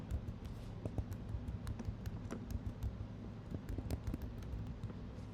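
A computer keyboard clatters with quick, uneven keystrokes as a layer group name is typed in Photoshop, close and soft over a low steady room hum, with no talk.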